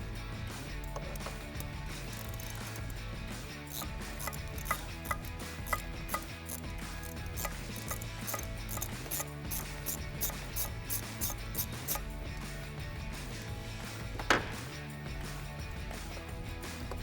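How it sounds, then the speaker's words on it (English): A ratchet with an 8mm socket loosens the intake clamp on a Camaro airbox, giving a few quiet clicking bursts close by, partly buried under steady background music. "loosen our clamp, and we can do that with an 8mm socket"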